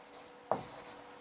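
Brief scratchy strokes of writing on a board during a maths lesson, two short close bursts separated by a pause.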